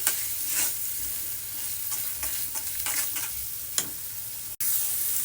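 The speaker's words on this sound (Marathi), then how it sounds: "कढईमध्ये खाली वरती करून घेते" Paneer and bottle gourd seasoned with black pepper are turned over in a kadhai, giving repeated close scraping stir strokes over a soft, steady frying sizzle.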